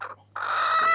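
A hen clucks at a farmhouse coop where she sits broody, a short call followed by a longer drawn-out cluck, close and clear.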